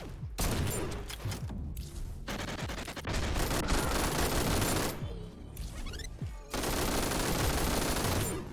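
A light machine gun firing in the video game GTTOD, loud sustained bursts of rapid automatic fire broken by short pauses, close and dominant with no talking.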